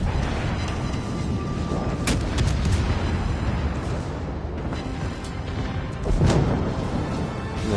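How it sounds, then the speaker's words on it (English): Battleship secondary guns firing in World of Warships Legends, a dense rumble of repeated booming shots and blasts with one louder report near the end, loud and sustained without speech. "our secondaries continue to light them on fire"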